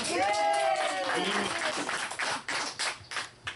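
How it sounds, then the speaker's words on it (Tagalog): A voice rings out first, then a crowd at a family Christmas encampment breaks into applause that swells and comes in uneven bursts toward the end. "Palakpak!"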